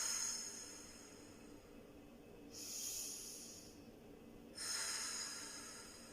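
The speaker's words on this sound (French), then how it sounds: "On fait 3 respirations profondes." Deep, slow breaths are taken during a relaxation exercise, with long airy exhalations audible close to the listener above a soft background hiss. Two clear, drawn-out breaths stand out, separated by quieter pauses.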